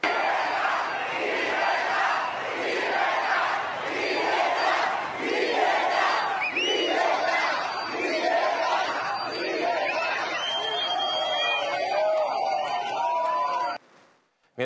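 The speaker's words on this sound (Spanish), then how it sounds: "abucheado y aplaudido" A large crowd below the balcony of the Real Casa de Correos jeers and cheers Javier Milei in a dense, continuous roar that swells in rhythmic chanting waves, with shrill whistles rising late before the sound cuts off abruptly.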